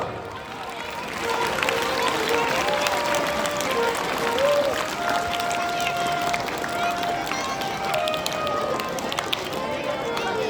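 Applause from a gathered group at a Hindu havan fire ritual, a steady broadband patter of many clapping hands sustained for about ten seconds, with crowd murmur and voices mixed in.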